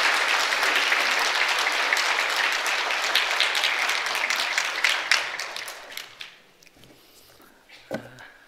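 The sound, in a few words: church congregation applauding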